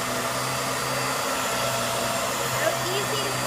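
A Hoover Air Lift Deluxe upright vacuum cleaner runs over a floor with bits of dirt, giving a steady, loud motor whine and rush of air that holds unbroken with no talk.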